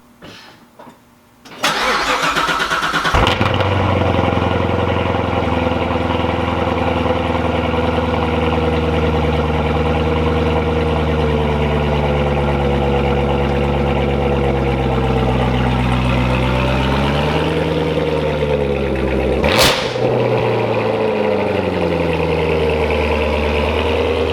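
A Chevrolet C7 Corvette Z06 V8 engine with stock exhaust cranks and fires up on a cold start with a loud roar, then settles into a deep, steady idle with rising and falling revs.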